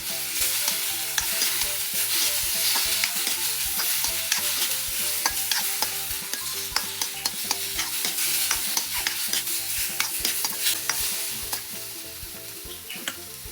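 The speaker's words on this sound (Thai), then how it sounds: "ใส่กุ้งที่เราเตรียมไว้ลงไปผัดได้เลยค่ะ" Shrimp stir-fried in a hot pan for Thai basil shrimp, a loud steady sizzle broken by frequent sharp clicks and scrapes of a spatula against the pan, no voices present.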